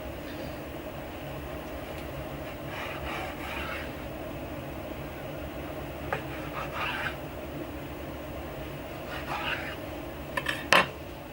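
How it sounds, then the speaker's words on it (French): A knife slicing a Grade 4 Wagyu sirloin into four pieces beside a Pit Boss Navigator 850 grill. Soft, intermittent rubbing strokes are followed by a few sharper clinks near the end, all fairly faint over steady background noise. "je vais couper 4 morceaux de viande sur ce contrefilet"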